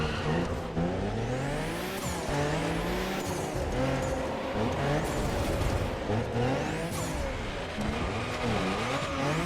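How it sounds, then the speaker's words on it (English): In The Crew Motorfest, a Honda running a V6 turbo JDM engine sound keeps up a loud, close engine roar with rising and falling revs, punctuated by tire squeals and skids over nearly ten seconds. "We have a V6 turbo JDM engine sound that we can equip onto it."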